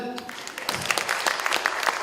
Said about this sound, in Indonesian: Tepuk tangan dulu Om Riri Riza.